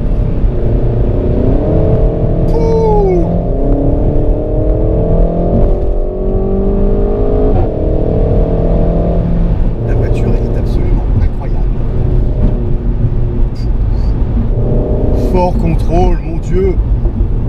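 A Renault Mégane 4 RS driven hard through corners, its engine droning steadily with pitch shifts as it changes gear and loads up, and someone talking over the engine noise throughout.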